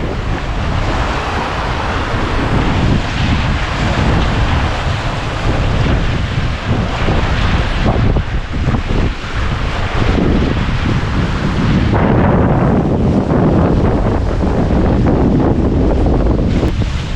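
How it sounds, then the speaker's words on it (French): A sailboat under sail in the Mediterranean, driven by 15 to 18 knots of wind through a heavy swell: a constant loud roar of wind buffeting the microphone, mixed with rushing water and surging waves, steady and unbroken throughout. "On a 15 nœuds, mais on a une grosse houle, 15-18 nœuds même"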